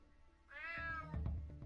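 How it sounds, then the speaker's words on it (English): A single cat meow from the NES-style stealth game UnMETAL, a clear rising-then-falling call followed by lower thumping game sounds. "Damn cat."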